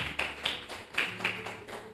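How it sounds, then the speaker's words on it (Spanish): A church congregation breaks into applause, a quick rhythmic clapping that pulses in regular beats, fairly close and steady, with no voices over it. "¿Cuántos pueden dar un fuerte aplauso a esa palabra fiel y digna"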